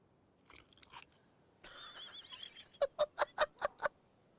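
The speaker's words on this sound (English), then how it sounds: "listen to those high def hamburger crunching sounds" Hamburger eaten in Alan Wake 2, with a few scattered crunches, then a run of six rhythmic, loud bites close up.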